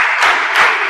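Students in an Indonesian classroom clap in unison on a teacher's cue. Two short, loud group claps land close together within a second, with no talking.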